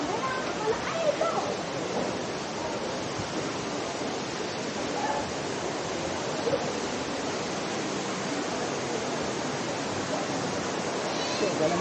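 Steady, loud rush of water at a roadside waterfall in Ranchan Recreation Park, Serian, Sarawak, a dense broadband roar continuing without a break, with faint voices mixed into it.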